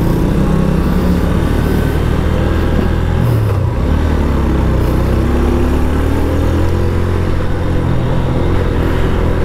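A Honda CB 150F motorcycle ridden fast on hilly roads gives a steady, loud engine drone with wind roar throughout, the pitch dipping and rising briefly as the rider shifts mid-run.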